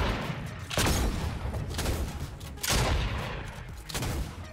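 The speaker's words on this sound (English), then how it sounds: "So apparently you can double pump if you swap shotguns" Shotguns fire in quick succession in a video game as the player swaps weapons, giving four heavy blasts that each decay into a rumbling tail, with no voices.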